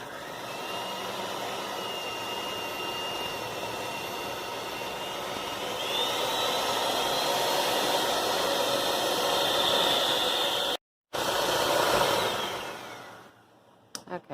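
An electric mixer creaming 1.5 sticks of butter with sugar, a loud steady whirring drone that rises in pitch midway, cuts out briefly, then winds down.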